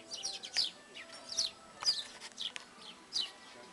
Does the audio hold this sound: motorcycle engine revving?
no